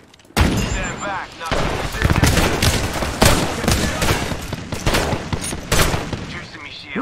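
Rapid, dense gunfire fills an Apex Legends match, overlapping bursts and shots crackling loud and close with little pause, while a voice talks briefly in the mix.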